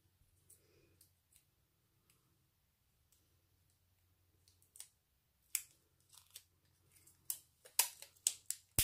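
Adhesive tape being torn and pressed onto a handmade scrapbook album page, heard up close as sparse crinkly tears and clicks that grow denser and louder toward the end, with no talking.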